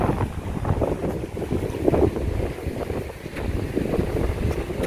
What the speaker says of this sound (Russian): Слышите, да, какой ветер?